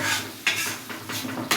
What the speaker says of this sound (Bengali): এবার পালং শাকের পেস্টটা দিচ্ছি। এবার ভালোভাবে কষাতে হবে